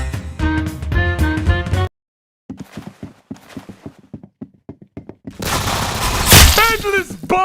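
Shooter video game gunfire cracks in quick bursts of sharp shots, with a stretch of music before it and a dense, loud burst of game noise afterward that carries a voice.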